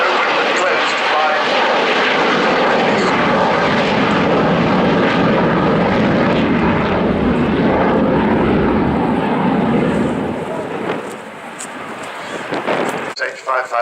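A propeller aeroplane drones loudly and steadily overhead at an airshow, its engine roar filling the air before fading near the end amid some wind noise.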